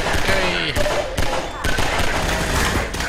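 Gunfire in the video game Half-Life 2: dense, rapid bursts of automatic shots with sharp cracks, loud and continuous across the moment, with a voice talking over it.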